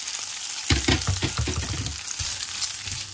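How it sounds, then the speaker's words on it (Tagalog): Kimbap rolls frying in a pan, a loud close sizzle and crackle with bursts of stirring or shifting in the first half, then a steadier hiss. "Ayan guys, i-prito ko lang. Pag-brownin lang natin."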